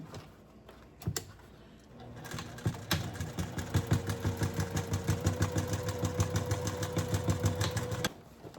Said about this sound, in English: I'll just back stitch on each corner just for fun.